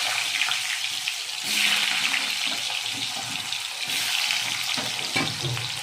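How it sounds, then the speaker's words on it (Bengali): Potato pieces fry in hot oil with cumin seeds in a pan, giving a soft, steady sizzle that swells briefly and then settles, with no voices. "আলুগুলো আমি ভালো করে ভেজে নেব।"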